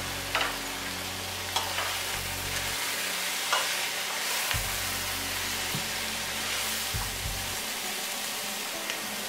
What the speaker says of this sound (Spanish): Ahora agregamos los champiñones cortados.